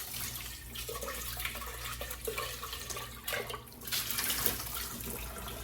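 Tap water running into a kitchen sink as a cooking pot is rinsed out, a steady close splash with shifting, uneven surges as the stream hits the pot.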